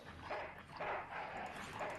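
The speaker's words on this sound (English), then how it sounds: "That dog really likes you, Jack." A dog in the video game Full Throttle gives three muffled barks at a steady pace, fairly quiet under a low background hum.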